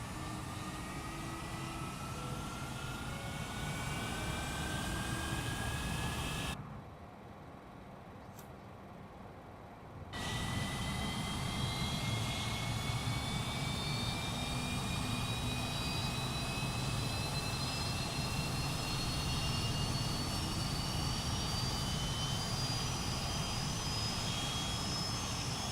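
Fokker F28 jet engine spooling up in Microsoft Flight Simulator 2024, a steady loud whine rising slowly in pitch over a broad roar, briefly cut out for a few seconds, then continuing to climb.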